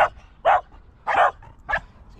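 A dog barks three times in quick succession, loud and close, with short gaps between each bark and no talking.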